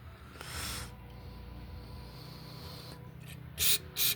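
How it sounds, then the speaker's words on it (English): Carb cleaner is sprayed from a can into a hole in a Honda HS724 snowblower carburetor, with a short hiss early on and two sharp, loud bursts near the end over a low background hum. "let's put some carb spray in this hole"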